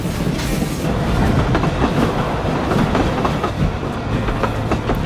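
A train rolls along rails with a continuous loud rumble and faint rhythmic clacking of wheels, heard close and steady with no break throughout.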